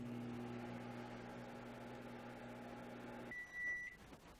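A microwave oven runs with a steady low hum, then gives one clear electronic beep as it stops, heard alone and fairly quiet.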